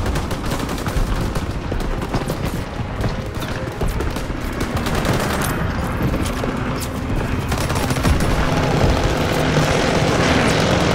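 Gunfire and aircraft in the World War II video game Call of Duty WW2, with dense, continuous rattling shots and explosions over the steady roar of planes, loud throughout.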